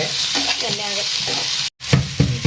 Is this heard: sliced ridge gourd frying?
yes